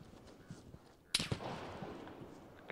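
A single sharp gunshot cracks out partway through a firefight in the survival shooter game Vigor, loud and close, followed by a lingering wash of noise and a few faint distant pops.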